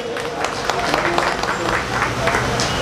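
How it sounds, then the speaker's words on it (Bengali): Audience clapping at a blood donation camp event, a steady patter of many hands with a murmur of voices mixed in, fairly close and lively. "একটু জোর করে করতালি সবাই মিলে।"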